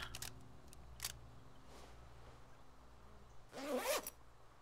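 A backpack zipper in the game Arma 2 DayZ gives a few quiet short rasps followed by a louder, longer zip near the end, alone against a faint hum.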